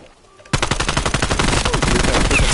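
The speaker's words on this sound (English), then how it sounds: "They're using an SMG for that range" Rapid submachine gun fire in Call of Duty starts abruptly and keeps up as a dense, loud burst of closely spaced shots.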